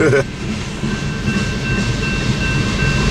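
A manifest freight train rolls past on Tehachapi Pass, a steady broad rumble and rail noise with a faint high whine, fairly close throughout.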